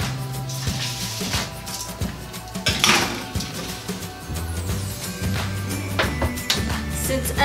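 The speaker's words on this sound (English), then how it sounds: "so I'm going to put my pork steaks in" A pan of barbecue-seasoned pork steaks slides into a 375-degree oven: metal pan clanks and scrapes, a rack rattles, and an oven door thuds, with clattering bursts spread over several seconds.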